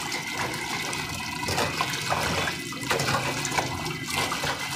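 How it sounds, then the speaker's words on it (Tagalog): Kangkong (water spinach) is washed under running water, a close and continuous splashing and gurgling stream that rises and falls slightly as the greens are handled, with no talking. "hugasan natin maigi kasi minsan yung kangkong may mga hayop-hayop"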